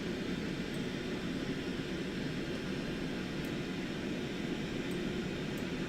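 An aircraft takes off from a runway in Microsoft Flight Simulator 2024, heard as a steady, even jet engine roar that holds at one level throughout with no voices.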